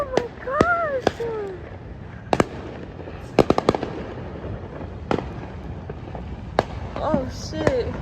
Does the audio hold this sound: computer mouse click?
no